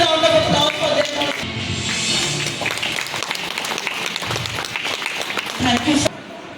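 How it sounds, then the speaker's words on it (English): Applause rolls through an audience at a school Class X toppers felicitation ceremony, sustained and dense for about six seconds, fairly loud and close, then cutting off abruptly near the end. "A huge round of applause for them."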